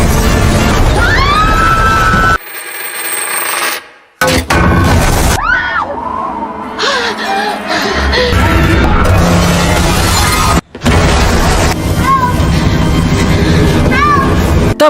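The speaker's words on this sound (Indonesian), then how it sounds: "piano pun terjatuh hingga menghantam jendela dan menewaskan semua orang" A falling piano smashes through a window as a building collapses in a film, dense crashing glass and debris with booms and screams, loud and chaotic, broken by brief silent gaps.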